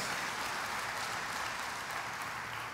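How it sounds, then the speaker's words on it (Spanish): Worshippers in a church applaud during a sermon on God's holiness: continuous, crowded hand clapping forms a thick, even roar at moderate loudness from start to finish, with no voices rising above it. "Dele el aplauso fuerte"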